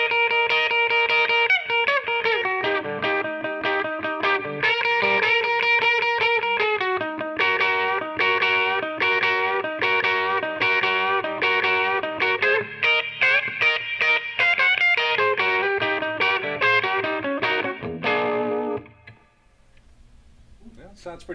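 A distorted electric guitar plays a driving rock and roll intro riff through a Quilter MicroPro 200 amp, with fast double-stop bends and choppy rhythm, loud and close, then stops abruptly into near silence.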